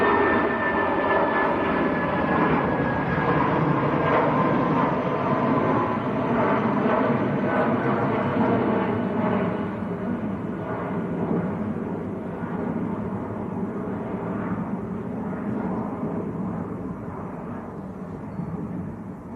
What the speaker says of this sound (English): Eurowings just getting airborne